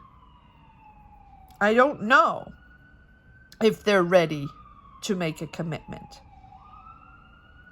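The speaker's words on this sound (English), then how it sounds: "Apologies for the sirens." A wailing siren drones steadily in the distance while a person speaks in short bursts over it, the siren's pitch slowly sliding up and down.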